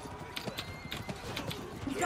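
A horse's hooves clip-clop in quick, uneven beats during a battle in the video game Blood of Steel, with a faint whinny under the mix.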